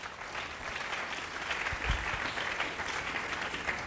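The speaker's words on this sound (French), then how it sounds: "Acclamons très fort pour les voir." A church congregation applauding, a steady wash of clapping that holds throughout at moderate distance with no break.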